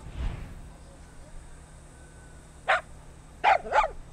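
A dog in the Far Cry 6 video game barks three times, short sharp woofs close by, two of them in quick succession, over quiet game ambience after a brief low thump.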